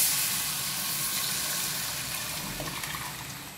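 Curry mixture tipped into hot oil sizzles and hisses steadily, a loud, broad frying crackle close by that eases slightly toward the end.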